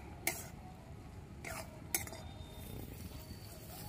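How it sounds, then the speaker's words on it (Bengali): Cabbage paste being stirred in a pan for a Bengali cabbage bhorta, with a few sharp clinks of a spoon against the pan over a quiet, soft scraping background. "সমানে এইভাবে নেড়ে যেতে হবে"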